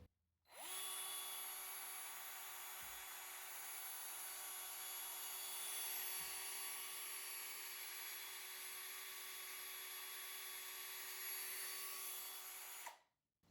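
A drill runs steadily for about twelve seconds, spinning a homemade DC generator. The whine is continuous and fairly close, holding a constant pitch from start to stop with no talking.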